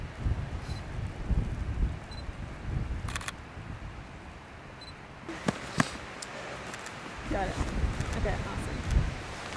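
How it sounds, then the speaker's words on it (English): Wind gusting outdoors during a photography shoot, low rumbling buffets on the microphone that rise and fall, with a few camera shutter clicks and some brief talk in the background. "The wind's picking up a lot."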